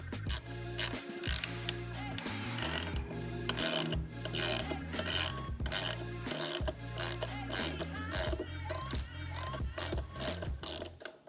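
A screw is worked out of the aluminum housing of an RVR treadmill, making repeated close ratcheting and grinding clicks in an uneven rhythm against a low steady hum, with no voices.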